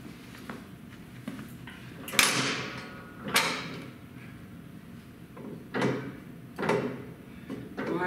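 The rollers of a Greenlee 855 SMART Bender slide back to their home position, ready for 1.5 and 2 inch EMT conduit. A few separate mechanical swishes and clunks, some sharper than others, stand out against a quiet, low background hum.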